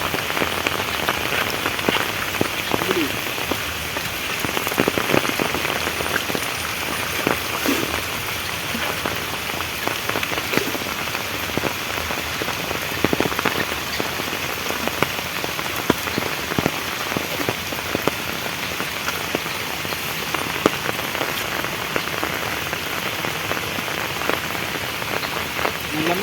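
Steady rain falls on surfaces beside a stream, a dense, constant hiss of drops with occasional louder patters, close and continuous throughout.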